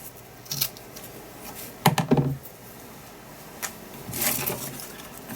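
Scissors snipping and trimming material on a Halloween-themed paper art tag: a few short, crisp cuts with handling rustles between, close and quiet, no voices.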